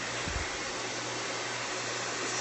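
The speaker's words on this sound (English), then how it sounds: "If you need a hair dryer, you need to get this hair dryer." A hair dryer runs continuously at a steady, loud level, with a brief low thump near the start and no voices.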